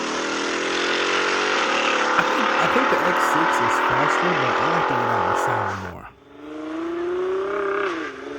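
A Nissan GT-R R35 engine revs hard and close, its loud roar climbing and dipping in repeated pulses before a sudden drop and a fresh rising pull; talk is heard alongside.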